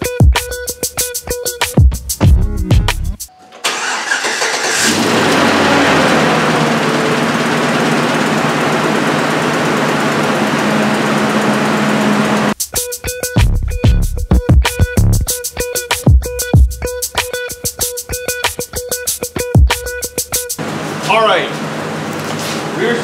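Engine of a 2009 Saab 9-7x 5.3i cranking, catching and settling into a loud steady idle, with people talking over the running engine and a rattling, clattering section before and after.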